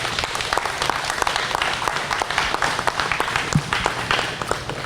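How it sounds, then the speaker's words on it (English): An audience at a law-enforcement salute event at a Ford dealership gives a corporal a long round of applause: continuous, even clapping from many hands with no voices over it. "Would you please join me in giving one final big round of applause to Corporal Jon Dodge"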